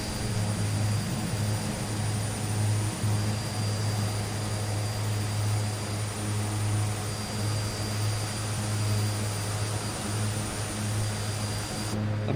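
Steady, loud drone of an Aerosoft Twin Otter twin-propeller aircraft in Microsoft Flight Simulator 2020, a constant low engine hum with a thin high whine running unbroken throughout.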